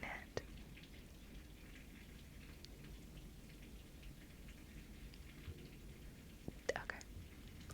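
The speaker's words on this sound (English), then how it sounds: "The rain is really loud. I wonder if the mic's catching it." Rain falls steadily outside, a faint continuous patter heard from indoors with a few sharper drips, under soft whispering.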